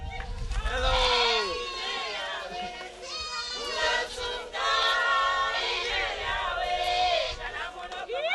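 Goats bleating repeatedly and loudly at a mission goat distribution for children, their wavering cries overlapping almost continuously, close by, with voices and crowd noise underneath.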